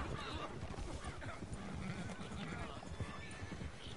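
Horses in the Red Dead Online video game, hooves clip-clopping steadily with a neigh breaking through, all fairly quiet and mixed under someone talking over the gameplay.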